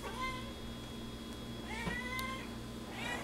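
A cat meows three times indoors, each call drawn out and clearly audible over a low background hum, with short pauses between the calls.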